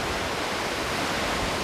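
Panalaban Falls in Majayjay, Laguna, water pouring and splashing in a steady, broad roar that fills the scene evenly without a break, close and uninterrupted.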